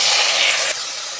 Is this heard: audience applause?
no